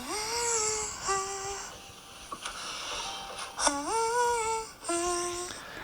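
A voice sings a series of high, sustained synth-like tones in short phrases, some with sliding pitch bends, imitating a bright electronic lead.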